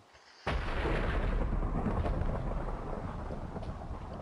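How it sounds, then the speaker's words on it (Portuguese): In the Minecraft video game, a sudden loud crack of thunder breaks the quiet and rolls into a long rumble over steady rain. "Oxe, mano, tá chovendo"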